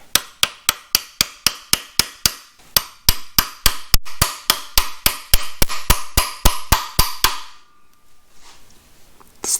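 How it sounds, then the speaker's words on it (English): Sharp metal hammer blows drive a clutch part into a 1963 Corvair during a full clutch job, some two dozen loud, close strikes in a quick, steady rhythm, then a brief pause and quiet handling noise. "Was hammering a little bit off center, I think, unfortunately."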